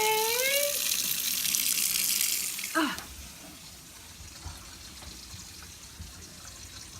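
Water runs from a tap into a sink as a bright hiss for about three seconds, then drops to a quieter trickle, with brief squeaks from handling close by.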